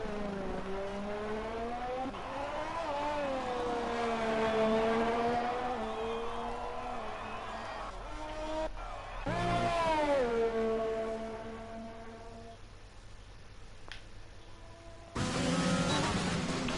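AlphaTauri Formula 1 car in the F1 2020 racing game at the Australian circuit, engine whining high through gear shifts, dipping and climbing again on acceleration, close and loud throughout.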